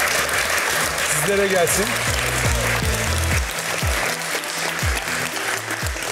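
Studio audience applause on a Turkish talk show, a broad wash of clapping running the whole time beneath a host's voice speaking over it.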